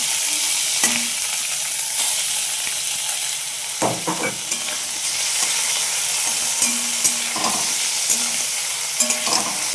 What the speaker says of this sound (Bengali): এরকম পেঁয়াজটা ভাজা ভাজা হয়ে গেছে, আমি এখন চিকেনটা দিয়ে দিচ্ছি।